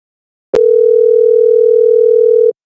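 A single steady ringback tone on an outgoing phone call, loud and continuous for about two seconds after a brief click, with no talk over it.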